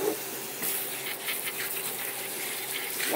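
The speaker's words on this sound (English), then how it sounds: "I will pour it in a strainer and then run a little, not very much cool water over it" Cool tap water runs over freshly cooked crab in a strainer, a steady close gushing hiss with no break and no voices.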